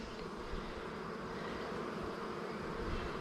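Honeybees hum in a continuous, even drone at an open hive during inspection, with foragers crowded close by.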